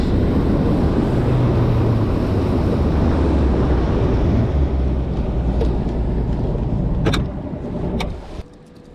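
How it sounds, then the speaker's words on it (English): A boat's outboard engine running rough on five cylinders out on the California Delta on a windy day, a loud continuous drone buffeted by wind noise that drops off sharply near the end. "Running on 5 cylinders."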